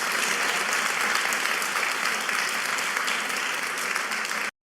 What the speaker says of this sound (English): can y'all please give a round of applause for Horace Mackey